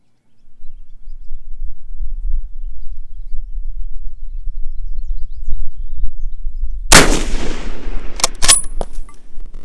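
One rifle shot from a James River Armory 1903A4 firing 175 gr match ammo at a 300-yard range: a loud, sharp crack after several seconds of low wind rumble, followed by a couple of fainter distant snaps, with no talking.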